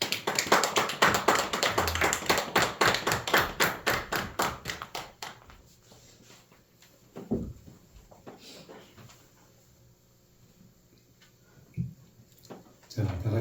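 A church congregation at a Sunday service breaks into brisk, loud applause that fades out within about six seconds, followed by quiet room tone with a few soft thumps.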